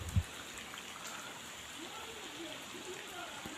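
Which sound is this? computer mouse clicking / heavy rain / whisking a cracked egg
heavy rain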